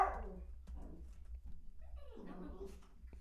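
A dog indoors barks and whimpers amid a livestream setting, with a sharp yelp at the start followed by softer whining and a rising whimper, fairly close and moderately loud over a faint background.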